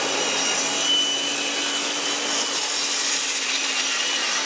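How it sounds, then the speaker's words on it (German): A table saw blade rises up through a wooden insert plate to cut a slot, giving a steady, loud, hissing whine that holds evenly throughout, with no talking. "Und dann mache ich jetzt die Säge an und fahre das Ganze hoch."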